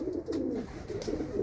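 Pigeons in a loft coo in soft, low, repeated throaty calls, several overlapping birds close by with a steady murmur.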